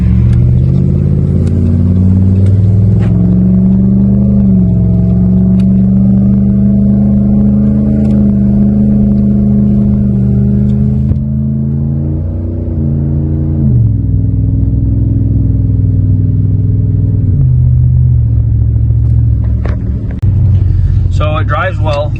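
A pickup truck engine rumbles steadily at close range while driving, shifting pitch as it revs and changes gears, with someone talking over it.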